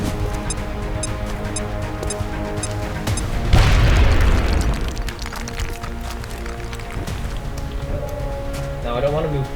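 A loud boom bursts out partway through in the XCOM strategy game as full cover next to a sectoid is blown up, sitting over game music and ambience and fading out over a few seconds.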